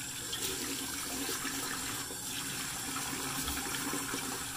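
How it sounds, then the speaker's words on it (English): Warm water runs steadily from a bathroom tap during a morning shave, a continuous splashing hiss with no talking over it. "Get a little water on the face here. There's the warm water."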